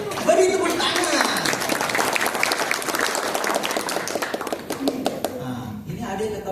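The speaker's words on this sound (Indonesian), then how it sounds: "Beri tepuk tangan." Audience clapping at a landscape gardening team training session, a steady burst of applause lasting several seconds with light laughter and chatter, tapering off near the end.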